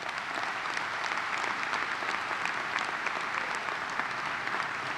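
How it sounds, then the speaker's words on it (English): A university undergraduate commencement audience applauds, a dense, steady roar of clapping filling a large space without a break. "Let's give all the people a round of applause."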